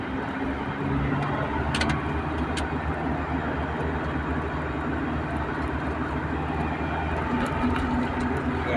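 Dense road traffic in Thailand, a steady low rumble of many car engines and tyres heard from inside a vehicle, constant and even throughout with no voices.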